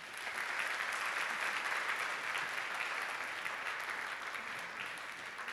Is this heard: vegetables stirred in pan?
no